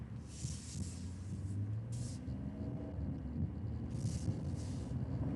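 Strong storm inflow wind roars steadily outside a vehicle during a Texas storm chase, with rumbling buffeting and hissing gusts that swell and fade throughout, and muffled voices faintly underneath.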